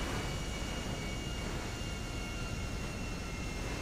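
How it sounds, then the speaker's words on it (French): Airplane drone in GTA, a steady broadband roar of engine and wind that holds constant and loud throughout, with no talk over it. "On est en avion, là, je t'avoue"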